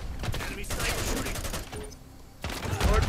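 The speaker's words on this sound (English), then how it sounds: "Enemy sniper shooting." Gunfire in a Call of Duty match, a continuous burst of shots with an enemy sniper firing, dense and loud, briefly easing before resuming heavily, with game voice callouts mixed in.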